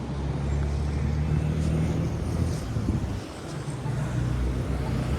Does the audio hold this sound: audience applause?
no